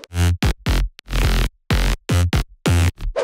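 An FL Studio synth mid bass processed with EQ, OTT compression and Sausage Fattener plays a punchy stop-start rhythm of dense, gritty, saturated notes. It is loud and up close, with no voices.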